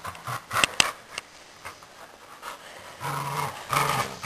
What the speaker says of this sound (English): Sparring puppy.